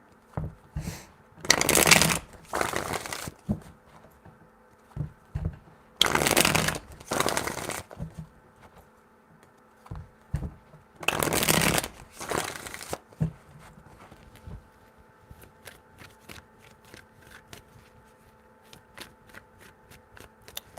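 Tarot cards being riffle-shuffled three times, each shuffle a loud crisp burst of flapping cards, separated by quieter handling and soft card taps.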